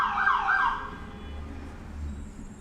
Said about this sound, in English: a lot of ambulances right now